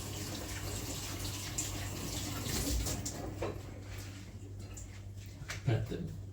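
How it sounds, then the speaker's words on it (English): Hands washed under a running tap beside a granite countertop, a steady rush of water with some splashing, low and continuous, and a voice talks briefly over it. "Let's go wash my hands."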